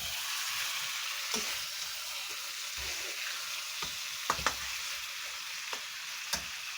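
Chicken frying in a pan for Bengali chicken kosha, a continuous close sizzle broken by occasional sharp spatula clicks and scrapes, with no voices.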